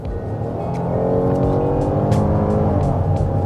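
A Kia Telluride SUV's engine accelerates steadily, heard from inside the cabin, its loud drone climbing in pitch as it gathers speed.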